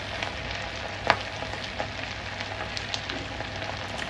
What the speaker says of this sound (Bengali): এবং এ পর্যায়ে চুলার কাছ থেকে বেশ কিছুটা দূরে সরে যাচ্ছি, কারণ তেল ছিটে গায়ে লাগতে পারে। তাই তেল ছোটা বন্ধ হওয়া পর্যন্ত অপেক্ষা করছি।